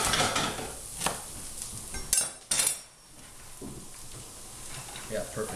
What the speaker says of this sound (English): throw my squash and bacon back into the pan, and I'm just gonna mix it all together